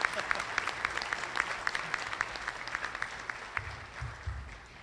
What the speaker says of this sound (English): please stand and have a round of applause